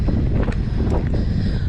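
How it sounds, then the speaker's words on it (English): Headwind buffeting a microphone on an outdoor trail run, a steady loud rushing roar with gusty swells throughout. "Well, now it's a headwind."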